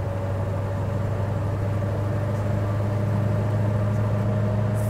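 Steady low engine drone from a 1970 Chevy Chevelle SS 454 with a five-speed, cruising in fifth gear at low RPM; a constant, fairly loud hum with no clear rise in pitch.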